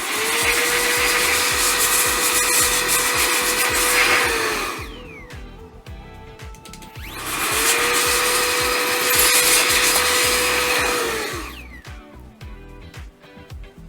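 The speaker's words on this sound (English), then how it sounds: "I use this Opolar air duster, rechargeable." An Opolar rechargeable air duster blows air over a turntable headshell in two long, loud hissing blasts, each lasting about four seconds, separated by a short pause.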